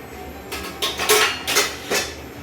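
Dishes clink and clatter in several quick bursts, close by, with short pauses between the knocks.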